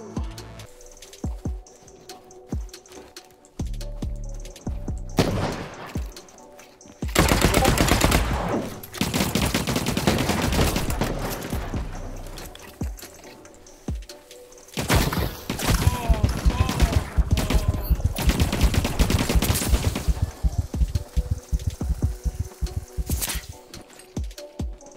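Light machine gun fire in the shooter game The Cycle: Frontier, with sustained loud bursts of rapid automatic shots alternating with gaps and scattered single shots.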